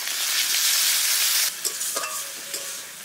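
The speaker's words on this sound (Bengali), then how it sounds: "রসুন বাটা এটা অল্প তেলে রান্না করবো" Garlic paste sizzles in a little oil in a pan, starting as a loud bright hiss that drops abruptly, then gives way to quieter spitting and scraping as it is stirred.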